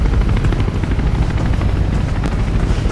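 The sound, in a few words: helicopter in the video game Mirror's Edge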